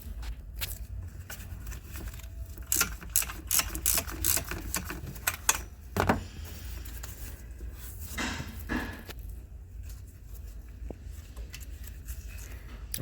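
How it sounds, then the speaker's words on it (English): A 10mm nut being worked off a bracket on a Ford Econoline van, with bursts of quick ratchet clicking, metallic handling and scrapes, close and fairly quiet. "Remove that nut."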